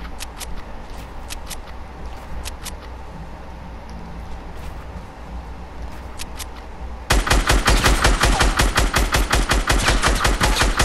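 Rapid bursts of automatic gunfire from a weapon in a video game, at first sparse and scattered single shots, then a loud, dense, steady rattle of fire for the last few seconds.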